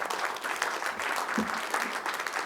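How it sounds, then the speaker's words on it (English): A conference audience at a Broadband Forum technical summit applauds a roundtable panel, with steady, moderately loud clapping from many hands throughout. "please show your appreciation and give a round of applause"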